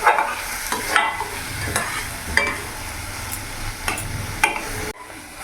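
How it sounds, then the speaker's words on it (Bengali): Tomato and spices fried in oil and stirred for a rohu fish curry with potato and cauliflower, a steady sizzle broken by regular spatula scrapes and taps against the pan, close and fairly loud, no talk. "এবার ভালো করে আমি একসাথে মিশিয়ে একটু কষে নেব।"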